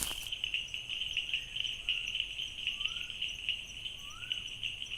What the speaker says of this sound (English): That's one male bush frog displaying.